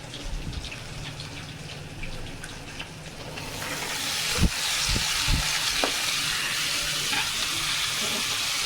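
Radish frying in fish oil, a steady sizzle with stirring and a few sharp clatters of a utensil against the pan, growing louder partway through.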